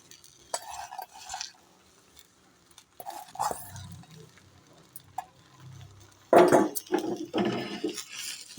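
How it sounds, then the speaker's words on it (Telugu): Moringa leaves and curry leaves are stirred in a dry pan for a spice powder, giving soft scattered scrapes and light clinks that come in irregular bursts, with a louder stretch of scraping near the end. No one speaks. "దీన్నంతా కూడా చక్కగా అటు ఇటు తిప్పుకుంటూ మనము ఇది వేయించుకోవాలి"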